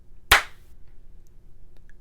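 One sharp hand clap rings out, loud and close, followed by a quiet room.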